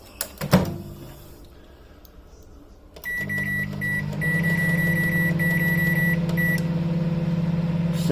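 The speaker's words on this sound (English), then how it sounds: "So into the microwave like so." A microwave oven is loaded with a compost container for sterilising, with a thud of the container going in, then the door closing, a beep and the steady hum of the oven running with a whirring turntable, close and alone.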